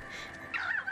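A bird calls in the Paperbark video game, a loud, close cawing cry that swells midway through and sustains over a soft ambient game background, with no talk.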